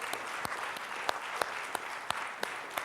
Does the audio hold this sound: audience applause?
yes